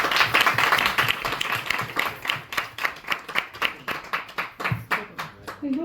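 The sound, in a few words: applause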